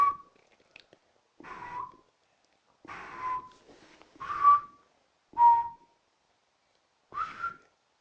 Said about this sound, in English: I'm going to whistle you a song at a slow pace.